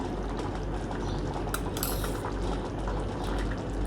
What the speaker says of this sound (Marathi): हे भाताला थोडी उकळी आली आहे